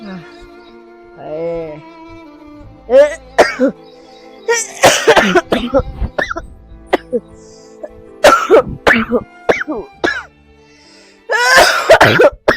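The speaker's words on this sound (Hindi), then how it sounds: "बहुत खांसी उठ रही" A man coughs heavily and repeatedly at close range. The wet, hacking bursts come in clusters with strained breaths between them, and a few voiced sounds are mixed in.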